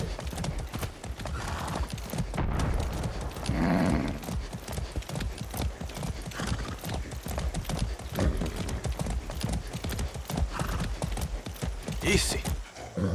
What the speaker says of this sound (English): Shh. Be nice, horse.